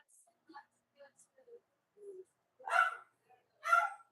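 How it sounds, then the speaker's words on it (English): A pet dog barks twice at medium distance, two loud sharp barks after some quieter household noises and brief vocal sounds in a busy home kitchen. "my dog is barking, barking, barking"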